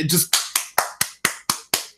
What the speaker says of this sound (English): that's me clapping, Jacob